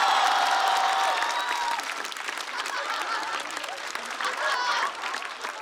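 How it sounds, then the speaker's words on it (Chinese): Audience at a stand-up comedy show applauding a performer, a dense, sustained wash of clapping that gradually thins, with a few faint voices in the crowd. "掌声再次送给阿水。"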